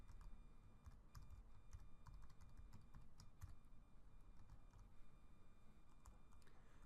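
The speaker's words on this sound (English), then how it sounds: "We're going to type in a new image name." Steady typing on a computer keyboard, a quiet continuous patter of key clicks with uneven rhythm and no voices.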